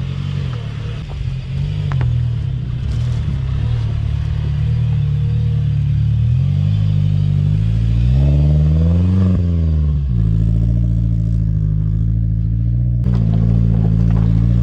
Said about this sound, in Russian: По камням прям едет